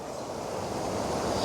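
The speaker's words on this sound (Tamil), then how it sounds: "எப்படி தண்ணி வேகமாக அடிக்குதுன்றதை தான் பார்க்குறீங்க" Fast water rushing through a channel in Vanni makes a loud, steady broadband roar with no pauses.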